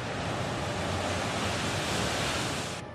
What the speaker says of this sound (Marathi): वायू वादळानं निर्माण झालेल्या उत्तुंग लाटांनी कोकणच्या किनारपट्टीला धडका दिल्या